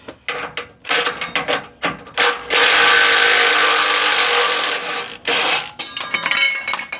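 A power tool on a bolt holding a bracket on a Ford Bronco: short rattling bursts, then a sustained whirring run of about two seconds and more brief bursts, close and fairly loud.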